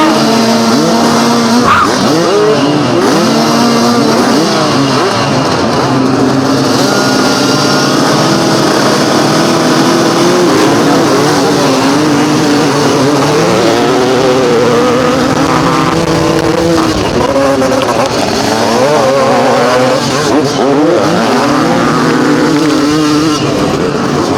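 Vintage motocross bikes racing, a 500 Honda CR against a Yamaha 250 YZ, with engines revving and wailing steadily up and down close by, a constant loud roar throughout.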